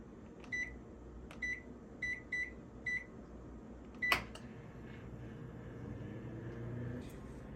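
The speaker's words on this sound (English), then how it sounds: "Put it in the microwave" Faint microwave oven keypad beeps come in a short series and are followed by a sharper tone; the oven then hums quietly as it runs with breadfruit in a wet paper bag inside.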